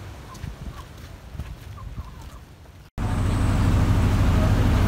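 A rooster in Lombok, Indonesia, gives a few short, faint clucks over quiet surroundings, then the scene cuts to a loud, steady rumble of passing road traffic.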